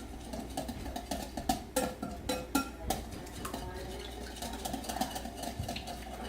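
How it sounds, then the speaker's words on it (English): Batter being stirred in a bowl for homemade donuts, with scraping and clinking of a utensil against the bowl, several sharper knocks in the middle, over a steady low hum. "So let's get stirring again."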